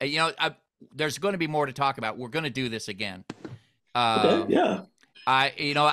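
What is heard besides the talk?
No distinct noise like a dog, phone or traffic.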